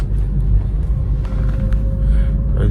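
A car drives along a road just after a rainstorm, giving a steady low engine and road rumble with no talk.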